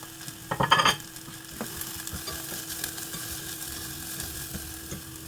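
Onion and garlic fry in a pan after a brief burst of clattering utensils, then settle into a soft, steady sizzle with occasional light stirring taps.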